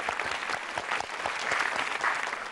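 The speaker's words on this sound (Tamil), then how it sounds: "கைதட்டு." Studio audience applause at a televised Tamil kids' game show, a steady dense clatter of many hands clapping close and loud throughout, without pause.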